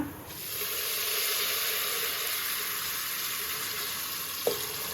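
Cumin seeds fry in hot oil with an even, close hiss that starts abruptly and holds steady, ending with a single sharp utensil tap.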